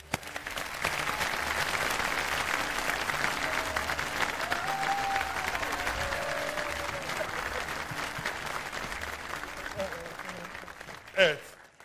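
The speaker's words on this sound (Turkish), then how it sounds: "İçine bir alkış rica edelim." Audience applause on a Survivor set, steady clapping that carries on for several seconds with some crowd noise and a brief voice near the end.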